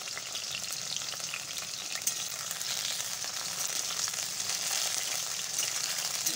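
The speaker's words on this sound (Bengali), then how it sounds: "পটলটা ভাজতে দিয়ে দিয়েছি" Tender young pointed gourd (potol) frying in oil for tel potol, a steady close sizzle with light crackling that swells slightly toward the end, no voices.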